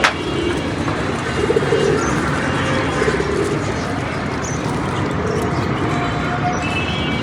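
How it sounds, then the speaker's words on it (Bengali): A female racing pigeon lands and coos nearby, soft repeated low coos over a steady outdoor background hum, with faint chirps and no speech. "এই যে কবুতরটা এসে পড়ছে, মাদি কবুতর"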